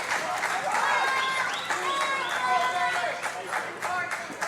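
A wrestling crowd at a fatal four-way match cheers and claps in a dense, sustained wave of noise, with shouts rising through it and a commentator's voice running underneath.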